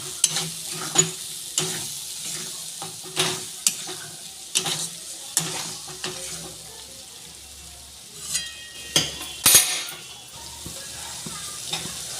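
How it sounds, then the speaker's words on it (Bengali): Spice paste and water frying and being stirred in a pan for mushroom curry, with repeated sharp scraping strokes of a spoon over a steady sizzle, close and fairly loud, no talking. "আমি মশলা বাটার জলটা দিয়ে দিচ্ছি এটা ভালো করে মশলাটা কষিয়ে নেব"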